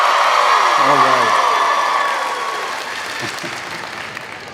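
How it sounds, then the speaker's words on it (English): Graduating candidates at a spring university commencement cheer and applaud: a loud burst of crowd clapping with whoops and shouts that gradually fades, with a voice heard briefly over it. "Now you, candidates, cheer and show us your excitement."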